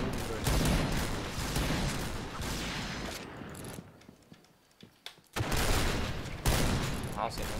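Rapid automatic sniper rifle fire in the Point Blank shooter game, a dense run of loud shots with a brief lull midway before the firing resumes, with talk mixed in.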